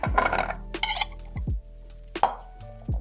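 Peeled potatoes and carrots drop into a pot one after another, landing with hollow thuds and metallic clinks, close by, with short pauses between.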